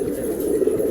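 Pigeons at a pigeon-keeper's loft coo in a steady, soft, low murmur that runs continuously through the brief moment, with no talking.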